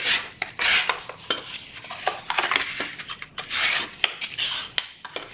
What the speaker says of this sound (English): let's go ahead and varnish our box